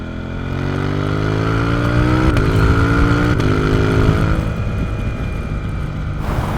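A KTM 890 Duke R fitted with an Akrapovic exhaust, ridden through a village, loud and close, its engine note rising then dropping with gear changes and a throttle shift near the end.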